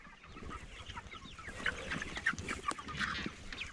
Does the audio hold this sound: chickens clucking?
yes